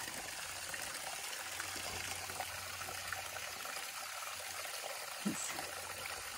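Small waterfall on the Suwannee River along the Florida Trail flows at low volume, a steady trickling rush with a faint low hum beneath and one brief splash near the end.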